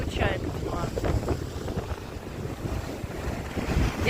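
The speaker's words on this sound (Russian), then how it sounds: "Да, сегодня вот штормит" Stormy sea surf and strong gusting wind on a beach at Yalta in Crimea, a steady loud roar with wind buffeting the microphone and no speech.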